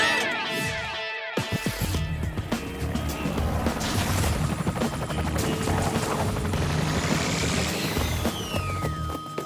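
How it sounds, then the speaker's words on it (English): Cartoon helicopter from an animated spy series, its dense rotor and engine roar loud and continuous under layered music and effects, with a brief silence near the start before the noise surges. "I'll send the chopper."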